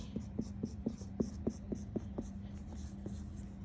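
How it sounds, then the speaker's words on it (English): Marker strokes on a board in a material-handling training session, a quick series of about ten short, evenly spaced scratches, close and moderately loud, with no talking. "This is a note I have to write on the board by itself."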